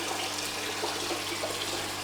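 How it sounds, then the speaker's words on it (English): Water from an aquarium's top tank drains down with the return pump running, a steady broadband rush and trickle with a low pump hum underneath, continuous and fairly close. "I'm actually draining from the top tank, and I'll just open that up and turning the return pump on."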